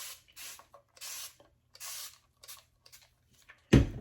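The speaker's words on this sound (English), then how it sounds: "I just go around and I spray those edges" Short bursts from a spray bottle of aloe vera juice misting onto hair edges, about seven quick hissing sprays in an irregular rhythm, close and fairly loud, ending with a louder thump.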